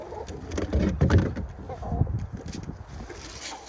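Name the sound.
flock of birds around feet, pecking boots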